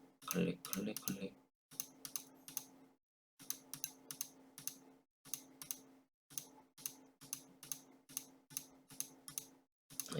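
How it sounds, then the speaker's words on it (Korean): Computer mouse clicks in Lumion while the Ctrl key is held down: quiet, close clicks in rapid bursts separated by short pauses, repeating steadily. "그러면 컨트롤 키 누르시고 클릭 클릭 클릭"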